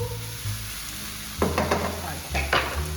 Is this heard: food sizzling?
yes